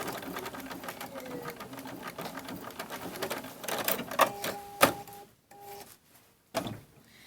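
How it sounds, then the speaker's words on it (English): Sewing machine stitching the borders of a Kimberbell table topper quilt, a rapid mechanical whir that runs steadily, then halts in short bursts near the end with a few clicks and beeps. "the machine is only going to go down each side of the fabric and is not going to run across the bottom"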